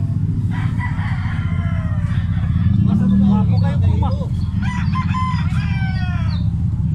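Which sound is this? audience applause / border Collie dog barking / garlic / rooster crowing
rooster crowing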